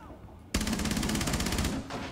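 Rapid automatic gunfire rings out in the tactical shooter game Rainbow Six Siege, a loud, sustained burst of evenly spaced shots starting abruptly after a brief quiet, then a short pause and more fire.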